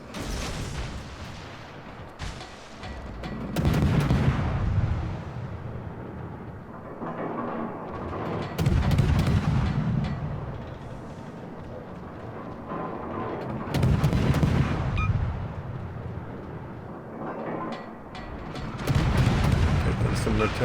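Naval gunfire in World of Warships during a Tier-6 destroyer battle, with several deep booming salvos rolling out every few seconds over a constant low rumble, loud and heavy.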